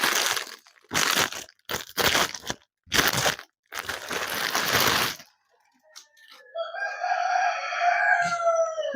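A rooster crows near a roadside paddy field in the evening, a long drawn-out call that rises and holds after several bursts of louder, broadband noise.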